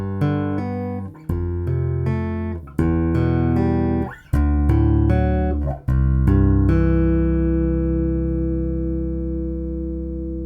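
A Chapman Stick heard through its bridge pickup: a series of close, ringing plucked notes rich in octave harmonics, each struck cleanly, then a final chord left to sustain and slowly decay, with no voices.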